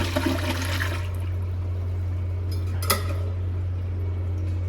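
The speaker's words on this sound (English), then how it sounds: "if I just hold down this valve, you'll hear the air in the bowl" Air hisses and rushes steadily out of a toilet bowl through a held-open valve during winterizing, a continuous close roar under a low hum with a brief gurgling splash near the end.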